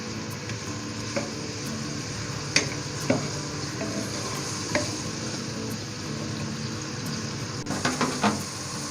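Onions frying with garlic-ginger paste in a pan, a steady close sizzle with occasional stirring scrapes and light utensil knocks against the pan, no one talking.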